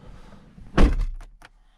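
A 2019 Porsche Macan's door gives a single solid thunk as it opens, followed by a couple of faint clicks, heard close with no talking.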